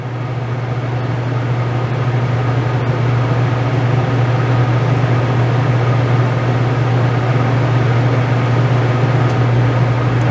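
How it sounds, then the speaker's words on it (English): A Dometic RV air conditioner runs with a loud, steady hum and a rushing fan noise that continues unbroken throughout, without any voices. "Fan will come on, then there's a more of a delay and the compressor will come on."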